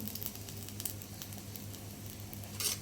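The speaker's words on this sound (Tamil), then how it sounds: "அடுப்பில் எண்ணெய் வச்சு காய வச்சுருக்கேன் இப்போ வந்து பிரியாணி இலை போட்டுக்கலாம்" Bay leaves dropped into hot oil in a pan give a steady, soft sizzle with faint crackles, flaring a little louder near the end.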